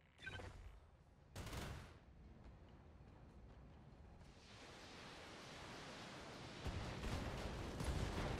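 Mech weapons including an AC-5 autocannon fire in the BattleTech video game, a quiet rushing barrage of bursts that builds into sustained noisy volleys, with a sharp burst near the start.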